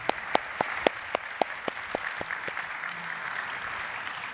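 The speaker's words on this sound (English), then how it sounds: "Another round of applause for our speakers." Scattered clapping from a symposium audience for its speakers, with a few sharp, distinct claps standing out as the applause thins and fades into room noise.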